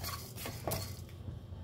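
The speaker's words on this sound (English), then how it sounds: "Keep stirring it continuously." Coriander seeds being stirred in a pan over low to medium heat, a close, continuous dry scraping and rattling with a few light metallic clinks and no talking.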